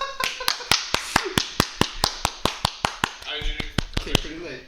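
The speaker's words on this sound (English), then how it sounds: "we'll take the golf claps any way we can." A small group gives sparse golf claps during a live show, roughly twenty separate claps in a steady, spaced rhythm, close and crisp, with people talking underneath.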